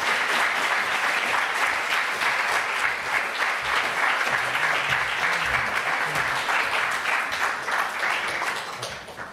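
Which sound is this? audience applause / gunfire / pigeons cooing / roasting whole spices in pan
audience applause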